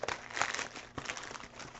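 Plastic bag crinkling as a parcel is unpacked, a plastic bag packed inside another plastic bag, close continuous rustling and crinkling with no talk.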